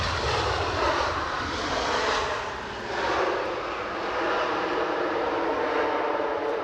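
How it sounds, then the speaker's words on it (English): A WestJet Boeing 737 MAX 8 arriving from Toronto touches down at Edinburgh Airport, its engines giving a broad, steady roar at a moderate distance that dips briefly before swelling again, with no speech. "So next arrival is the Boeing 737 MAX 8 WestJet, puff of smoke as it touched down there from Toronto."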